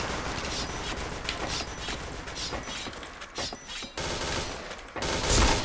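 Gunfire in the shooting game Point Blank comes in clattering bursts of rapid shots and mechanical clicks, moderately loud, with a heavier blast near the end and no speech.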